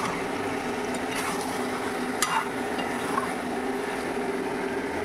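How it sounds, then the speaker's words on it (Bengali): Chicken sautéed in a pan with spice masala, a soft steady hiss of frying with an occasional clink of a spoon, fairly close and unbroken by speech. "এবার চিকেনটা আমি ঢেলে দেবো। প্রায় কষানো হয়ে গেছে।"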